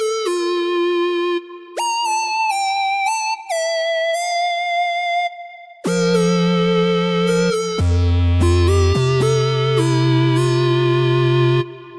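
Neon Whistles, a retro synth preset from Arturia Pigments 4, plays bright whistle-like lead notes with glides, then a thick bass-heavy chordal passage, loud and steady with effects and reverb.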